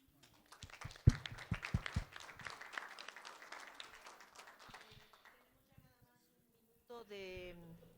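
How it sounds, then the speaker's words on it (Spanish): Audience at a departmental colloquium applauds, with a burst of clapping that peaks early and thins out over several seconds before fading, followed by a short stretch of speech afterward. "un aplauso para Vicky, ¿no?"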